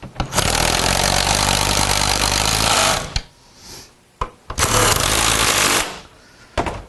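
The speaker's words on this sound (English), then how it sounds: "go ahead and take your socket or your impact. Run these four back in." An impact wrench drives the seat bolts back into a Ford F150 driver's seat during a leather seat install. Two long, loud, rattling bursts run about three seconds and one second, with a quick final blip after a short pause.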